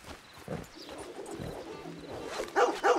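A dog barks in Red Dead Redemption 2 near a house, with two sharp barks landing close together at the end over a busy game background.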